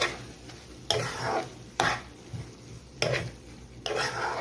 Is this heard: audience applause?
no